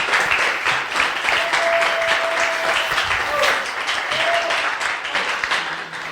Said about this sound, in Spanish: primero un aplauso, por favor, para Xochitl